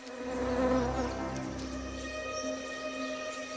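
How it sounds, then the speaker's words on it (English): Bees buzzing close by, a droning hum that swells and then settles into a steady, lower buzz, heard alone without voices. "The bees stray closer and closer, hypnotized by the scent."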